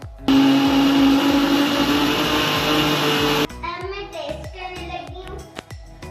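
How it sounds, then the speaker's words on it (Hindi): A blender grinds a chocolate cookie milkshake in a loud, steady whir for about three seconds, then stops abruptly, followed by voices talking. "अब इसको हम ग्राइंड कर लेंगे"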